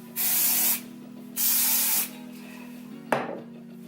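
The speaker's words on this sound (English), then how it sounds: "So I'm just gonna spray this all over my hair" Two short, hissing bursts of hairspray from an aerosol can onto hair, close by over a faint hum, followed by a brief clatter.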